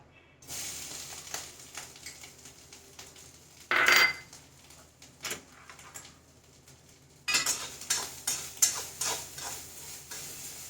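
Spatula scrapes and clinks against a pan as grated coconut is stirred and roasted in ghee, in irregular bursts with a soft sizzle beneath and no talking.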